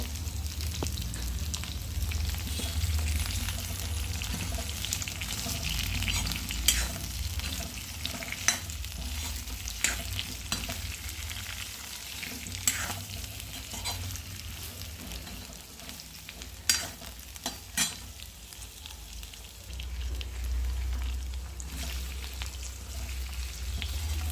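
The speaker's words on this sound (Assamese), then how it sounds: "কোমোৰাবোৰ সেই তেনেকৈ হাফ ফ্ৰাই কৰি ল'ম।" Pumpkin pieces half-fry in a pan with a steady, close sizzle, broken by occasional sharp scrapes and clicks of stirring, without any talk.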